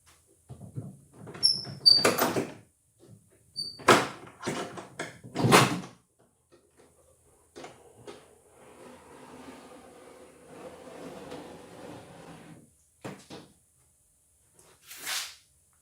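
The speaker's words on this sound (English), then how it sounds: "Let's just see how well it folds down." A folding table holding a Makita LS1219L 305mm sliding mitre saw is lowered, giving sharp clunks and latch clacks, then a longer creaking slide and a final thump, close and otherwise quiet.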